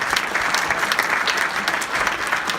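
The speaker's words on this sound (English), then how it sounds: "Can we just give them a round of applause really quick?" An audience at a Chicago Area Peace Action gathering claps steadily in a dense, continuous round of applause that holds at an even level throughout, with no voices standing out.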